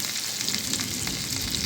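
Onions frying in a pan produce a continuous, even sizzle, close and moderately loud, with faint spattering pops and no voices.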